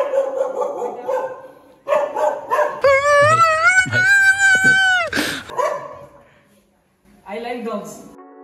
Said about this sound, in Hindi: हाँ, इसका कुत्ता बहुत खतरनाक है।